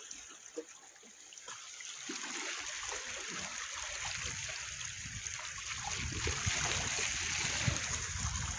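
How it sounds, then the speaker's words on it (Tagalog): Continuous bubbling, trickling sea water at a rocky hot spot, with a steady broadband wash, growing slightly louder over time, close by and without voices. "kumukulo yung tubig"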